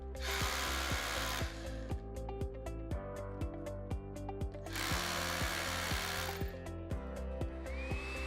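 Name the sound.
power drill drilling holes in floor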